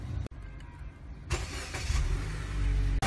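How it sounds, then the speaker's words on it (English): A car engine cranks and catches during a 12V portable battery charger test, the starter whirring before the motor settles into a low steady idle that grows fuller toward the end, heard close with no talk. "When A2 appeared, start engine."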